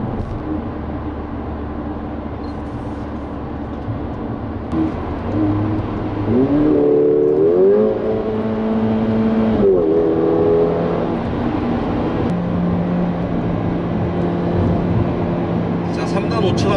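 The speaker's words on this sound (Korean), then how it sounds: "자, 끝까지 밟아도 자동 변속은 일어나지 않습니다" Mercedes-AMG A45 4Matic (2016) at full throttle in Sport mode, held in third gear with no automatic upshift: a steady engine drone with a rising whine, under continuous talk.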